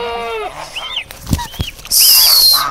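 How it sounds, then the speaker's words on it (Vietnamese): Two goslings peep with high, wavering calls. They share the space with other bleating farm animals, and a shrill, loud cry comes near the end. No one talks. "Hai con ngỗng con á."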